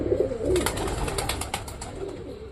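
Pigeons of the fancy shiting breed cooing softly in a pet loft on a cold day, low murmuring calls repeating through the clip with faint background noise and no talk.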